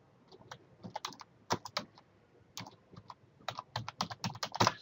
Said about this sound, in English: so I will type that in